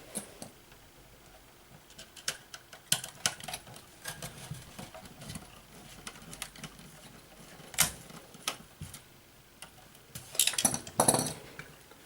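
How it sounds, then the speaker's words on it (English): Small screws are worked loose from a little circuit board inside a faulty projector with no power, sparse close metallic clicks, scrapes and taps at irregular intervals, with a busier cluster near the end. "So I'm just unscrewing this little board, which I might regret later."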